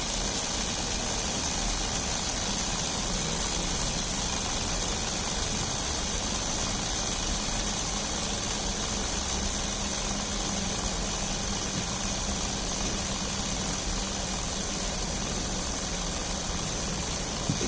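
A small DC motor under PIC microcontroller speed control runs with a steady, even whir and hum that holds constant, with no clear slowdown and no voices.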